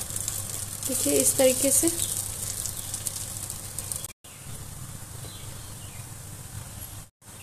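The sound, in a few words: chana dal pieces frying in oil in a pan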